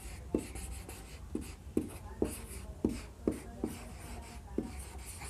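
Chalk or marker scratches out the word chemistry on a board in an introductory chemistry class, a quiet series of about ten short strokes in an uneven rhythm, close and faint.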